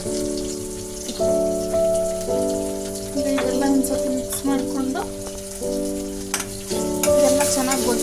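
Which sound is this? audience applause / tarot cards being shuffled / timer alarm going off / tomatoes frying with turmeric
tomatoes frying with turmeric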